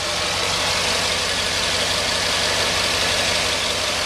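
The 6.2-liter Vortec V8 in a 2011 GMC Yukon Denali idles steadily under the open hood, a close, even rumble with a constant broadband whir and no talking.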